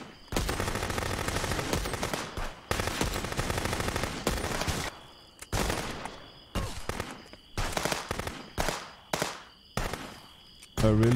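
Rapid AI gunfire in the police video game Contraband Police Simulator, loud bursts of automatic fire at first giving way to a string of separate sharp shots and short volleys.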